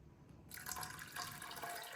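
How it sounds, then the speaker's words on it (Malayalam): Water is poured into a pan with lentils for cherupayar payasam, a soft splashing pour starting after a brief quiet moment and continuing steadily, close and fairly faint, with no talk. "ഒരു ഒരു കപ്പ് കൂടെ ഇരുന്നൂറ് എം എൽ വെള്ളം കൂടെ ഒഴിച്ചു കൊടുക്കണം"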